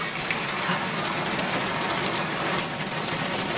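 Rain pours down steadily in a dense, even hiss that stays constant throughout, with no voices over it.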